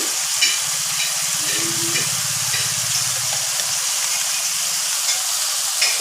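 Turmeric and ground cumin frying in a pan at home while being stirred, a steady close sizzle with soft scraping stirs running throughout, loud and continuous with no talk.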